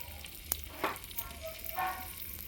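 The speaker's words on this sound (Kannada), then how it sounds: "ಎಣ್ಣೆ ಚೆನ್ನಾಗಿ ಕಾಯಿತು ಅದಕ್ಕೀಗ ನಾವು ತೊಗೊಂಡಿರೋಂಥ ಒಂದು ಸ್ಪೂನಷ್ಟು ಜೀರಿಗೆ" A spoonful of cumin seeds sizzling in hot oil for a Kerala-style mackerel fish curry, with a soft frying hiss and a few sharp crackles and clatters close by.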